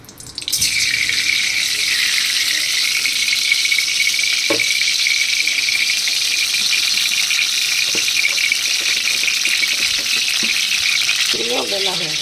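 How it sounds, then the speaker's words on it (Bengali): Luchi frying in hot oil in a kadai, a steady loud sizzle and crackle running the whole time, with a few utensil clinks and a brief scrape near the end. "এবার দেখো তেল আমার গরম হয়ে গেছে, এবার লুচি করছি।"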